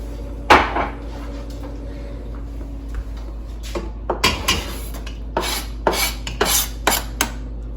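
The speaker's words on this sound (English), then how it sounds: "So I'm going to mix that a little bit as well." Cream of tomato soup with rosemary being mixed in a pot, with a series of scraping, clinking utensil strokes against the pot that become more frequent toward the end, close by and with no talk.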